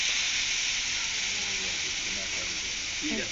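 Chopped radish and potato frying in a wok for a breakfast vegetable bhaji, giving a steady, fairly quiet sizzling hiss that continues without a break.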